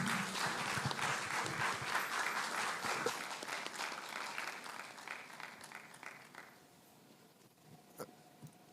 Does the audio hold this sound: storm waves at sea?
no